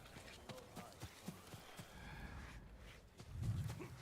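A horse in the Ghost of Tsushima video game walking on the ground, with soft, regular hoof clops at a faint level, followed by a brief snort at the end and some talk in the background.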